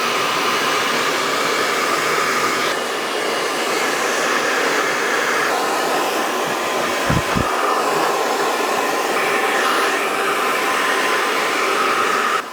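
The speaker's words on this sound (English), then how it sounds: "So it's a really, really quick blow dry technique now" Hair dryer running at high speed and high heat during a quick blow-dry after a men's haircut, a loud steady whoosh filling the whole stretch with a couple of brief handling bumps near the middle.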